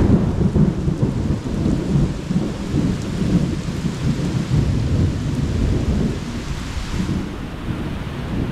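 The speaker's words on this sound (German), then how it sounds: "Es regnet, es donnert" Heavy rain pours down steadily in Mexico while deep thunder rumbles continuously underneath, loud and close, with no voices.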